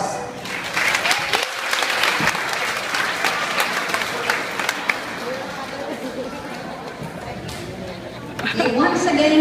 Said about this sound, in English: once again, a round of applause to Dwight Maromo for his valedictory address